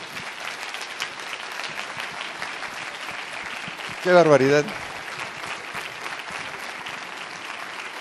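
Steady, dense audience applause for a speaker at a 2012 talk in Guadalajara, continuing throughout, with a brief excited voice calling out over the clapping midway.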